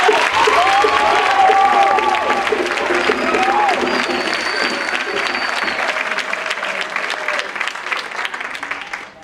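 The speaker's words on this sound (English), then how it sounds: "I think that deserves applause in itself." Audience applause at a graduation ceremony for the DuBois Prep Class of 2008: loud, sustained clapping from a large crowd with some cheering and voices, holding strong before slowly tapering off.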